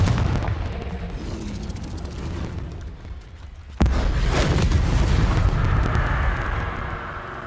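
Confringo, the fiery explosive spell in Hogwarts Legacy, goes off as a sharp loud blast midway through, followed by a rumbling, crackling tail over busy game ambience.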